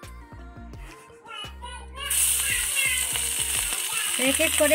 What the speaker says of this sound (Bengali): বেশি ভাজা করব না, অল্প হালকা হালকা ভাজা করে নেব।